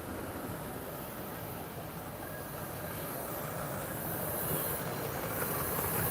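A zoo train rumbles past in a steady, broadband roll that slowly swells louder, with faint hiss and wheel noise and no clear talk.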